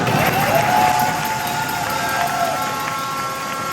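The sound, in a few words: crowd applause at a strike rally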